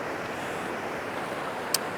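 Ocean waves washing onto the shore at sunrise, a soft, steady wash of surf heard from a short distance, even and unbroken apart from one faint tick.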